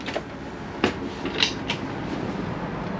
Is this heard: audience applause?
no